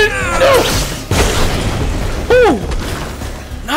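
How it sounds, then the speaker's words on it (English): A loud boom bursts in a Minecraft Story Mode game as obsidian is blown up, with a sharp crash early on and a second heavy hit near the middle, each ringing with whooshing tails. "That was a strong explosion and blew up the obsidian!"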